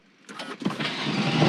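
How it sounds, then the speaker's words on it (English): A Porsche 911 engine cranks and fires after a brief starter whir, then settles into a rising, steady rumble heard from inside the car. "let's hear the engine"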